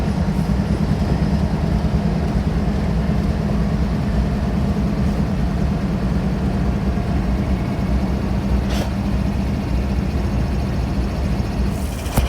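A BNSF freight train rumbles heavily at close range as it slows to a stop, its deep engine drone and rolling noise steady throughout with a brief metallic clank near the end.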